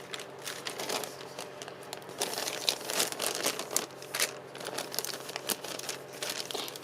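A plastic cereal liner bag is folded and crinkled up close, making a busy, uneven crackle of crumpling bursts that keeps on throughout without talk.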